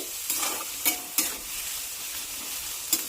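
Rustic-style ghevda bean curry stirred in a hot pan, an ongoing soft sizzle punctuated by a few sharp spatula scrapes spaced unevenly, close and with no talking.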